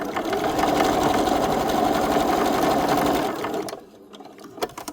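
Close and loud, a sewing machine stitches upcycled fabric patches in a steady, fast whir that runs for over three seconds, then stops, leaving a few faint handling clicks.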